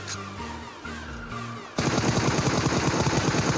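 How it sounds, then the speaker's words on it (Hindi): Loud automatic gunfire bursts in a battle royale shooter during a duo versus squad match, a quieter stretch of game sounds giving way to a dense, rapid volley of shots that continues to the end. "यहाँ पे मैं ऐसे रैंडम फायर कर रहा था"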